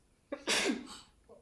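A single sharp sneeze bursts out in a quiet council meeting room, preceded by a quick intake of breath and trailing off into a faint sound afterward.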